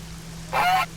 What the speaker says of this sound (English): Oh, Goose.